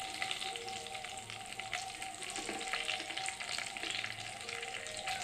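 Whole garam masala spices sizzling and frying steadily in hot oil, a dense continuous crackle throughout with occasional stirring, no voices.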